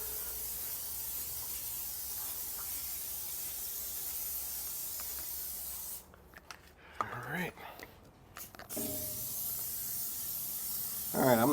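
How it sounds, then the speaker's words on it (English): Steady, continuous hiss of a sprayer coating a new Shirley Fabrication 24x60 straightback offset smoker for seasoning, running unbroken for several seconds before breaking into short, uneven bursts with brief pauses. "basically all I'm doing is spraying it all down"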